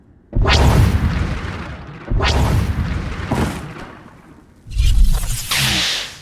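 Heavy explosions in the Star Wars: The Old Republic game as the Deathmark laser is destroyed: three loud booming blasts with rushing, whooshing tails, a couple of seconds apart, the last one brighter and hissier.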